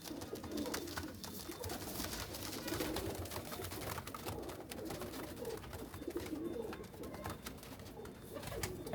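Pigeons at a loft in Faisalabad coo softly and repeatedly, low rolling calls overlapping under a faint, rustling background.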